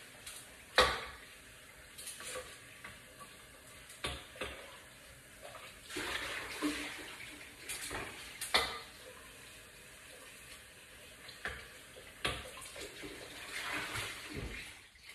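Hands rinsed under running water from a kitchen tap, intermittent splashing and gushing bursts with quiet gaps, faint and close, no talk.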